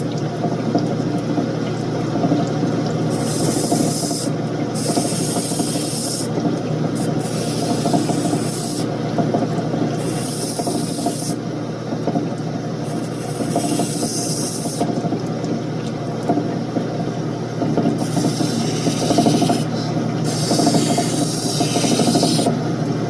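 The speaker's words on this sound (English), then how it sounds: "I love this corundum wheel for this. Such a smooth cut." A corundum wheel cuts and shapes an opal: a constant motor drone with repeated hissing, grinding bursts as the stone is pressed against the wheel, close and continuous, with no voices.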